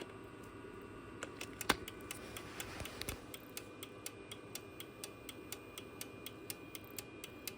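A power inverter under load powering an e-bike setup makes faint, regular clicking ticks at a steady pace over a quiet electrical hum, with one louder click near the start.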